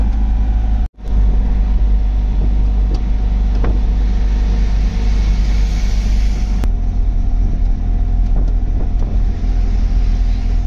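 Steady low engine rumble and road noise from a Mahindra Jeeto small pickup truck cruising at about 70 km/h, with wind buffeting the microphone and a brief dropout near the start.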